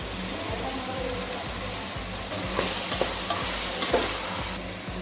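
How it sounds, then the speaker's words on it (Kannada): Ginger garlic paste fries in oil for veg fried rice, giving a constant close sizzle with regular soft scraping strokes of a stirring spoon and occasional clinks against the pan, with no voices. "ಇವಾಗ ಶುಂಠಿ ಬೆಳ್ಳುಳ್ಳಿ ಪೇಸ್ಟ್ ಹಾಕ್ತಾ ಇದ್ದೀನಿ."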